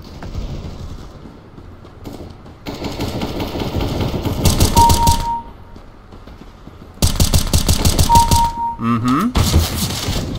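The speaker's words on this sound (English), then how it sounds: "The good old pump-action shotgun." Gunfire in a CS:GO casual deathmatch, with a pump-action shotgun in play: loud stretches of rapid shots separated by quieter gaps, with mechanical clacks and a sliding tone near the end.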